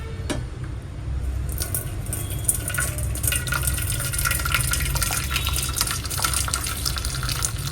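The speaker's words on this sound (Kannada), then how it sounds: "ನೋಡಿ ಇಲ್ಲಿಂದ ನಮಗೆ ಗಂಜಿ ಸಿಗುತ್ತೆ." Rice starch water pours from an Udupi rice cooker in a steady, close gushing stream of liquid that runs throughout, with no speech.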